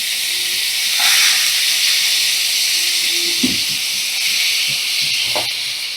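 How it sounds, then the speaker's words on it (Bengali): Cut bottle gourd pieces go into a hot pan, giving a steady, fairly loud hiss and sizzle that holds throughout, with a few light clinks of utensils. "আমি এভাবে টুকরো করে কেটে রাখা লাউ দিয়ে দিচ্ছি।"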